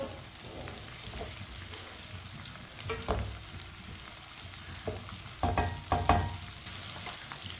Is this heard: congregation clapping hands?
no